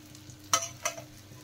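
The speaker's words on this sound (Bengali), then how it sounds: "এইভাবে সব মাছ কটা আমি ভেজে নেব" Bata fish fries in hot oil in a kadai with a low, constant sizzle. Two quick spatula scrapes stand out briefly over it.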